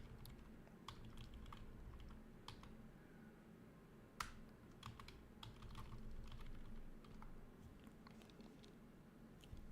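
Quiet, irregular computer keyboard typing clicks in short bursts over a low background hum, with one sharper tap standing out.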